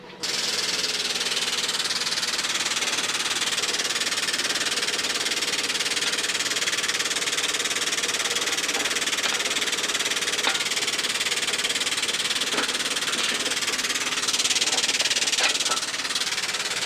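An 8-ton air-powered pneumatic hydraulic ram fitted to a workshop crane runs with a steady, loud hissing rush of air that holds for the whole stretch. Faint mechanical ticks sound underneath.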